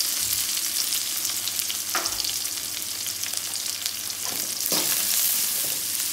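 A cup of small shallots fries in a pan for a village-style fish curry, making a dense, close sizzle with a few soft stirring scrapes and no voices.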